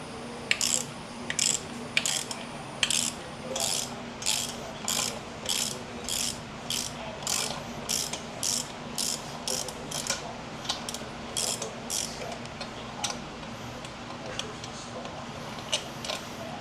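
A ratchet clicks in steady bursts while undoing the starter bolts on a 2011 Harley-Davidson Dyna Super Glide, its repeated pawl rattles sharp and close over a low hum, with short pauses between strokes.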